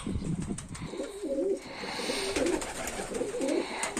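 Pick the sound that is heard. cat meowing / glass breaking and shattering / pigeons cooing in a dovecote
pigeons cooing in a dovecote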